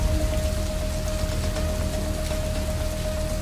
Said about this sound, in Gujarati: ભારે પવનની સાથે વરસાદ ખાબક્યો